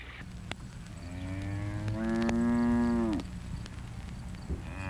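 A single long, loud cow moo with a rising then steady tone, lasting over a second, against quiet outdoor background noise.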